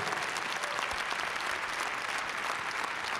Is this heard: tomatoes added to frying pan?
no